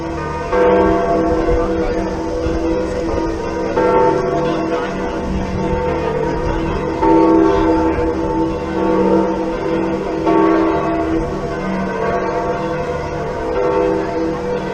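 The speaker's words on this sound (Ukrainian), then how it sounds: "хочете послухати голос Ватікану, он всі дзвони дзвонять." Several church bells of the Vatican peal together loudly and continuously, overlapping tones ringing out with steady swells, no voices heard.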